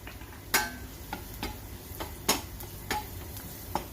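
Spoon scraping and tapping in a pan of potato chickpea curry with cumin, coriander and turmeric, several sharp clacks at an uneven pace over a soft sizzle, close and fairly quiet.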